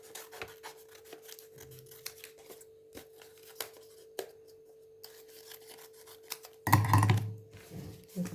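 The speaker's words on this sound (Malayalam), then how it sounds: "അതുപോലെ അടുത്ത കഷ്ണം നമുക്കിതിലേക്ക് കട്ട് ചെയ്യാനുള്ളത്" Scissors snipping paper for a paper craft star, a soft rasping cut audible in faint bursts before a louder, brief close-up snip near the end, with no talking.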